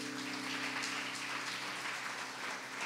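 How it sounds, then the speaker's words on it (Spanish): A church congregation applauds during a sermon, a quiet, dense patter of clapping that stays steady and continuous, with a faint low tonal hum underneath. "Dar un aplauso al que vive."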